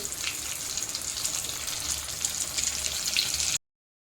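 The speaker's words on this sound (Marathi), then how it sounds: "आता आपण या सर्व मिरच्या एक प्रकारे फ्राय करून घ्यायच्या आहे तेलामध्ये" Green chillies fry in hot oil for mirchi vada, a constant close crackling sizzle with small pops that runs steadily, then cuts off abruptly.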